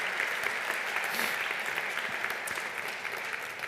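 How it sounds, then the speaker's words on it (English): An audience at an evening event for a university alliance gives a sustained round of applause, dense clapping that holds steady for several seconds, then tapers slightly. "And can we have a big round of applause, please, for Daniela, for a great contribution."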